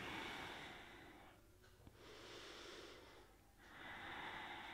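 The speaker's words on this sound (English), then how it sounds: "Breathing deeply through the nose." Slow, deep nasal breathing during a vinyasa yoga flow, very quiet and close, with long inhales and exhales separated by a brief pause, no talking.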